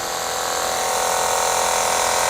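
A cordless San Yare pressure washer sprays concrete, giving a steady, loud, broadband hiss of water jet that holds unchanged throughout without pause or talk.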